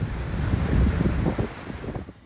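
Strong typhoon winds and pounding waves on the Pacific island of Guam during Typhoon Mawar, with heavy rain: a loud, continuous roar of gusting wind buffeting the microphone and crashing surf, easing slightly at the end.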